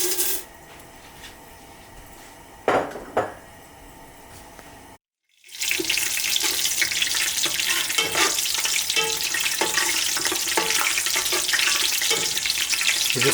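Dried onions sizzle and crackle as they fry in a pan for beef tehari, with stirring scrapes. A few loud knocks are followed by a short silence, and then a fuller, louder sizzle continues steadily.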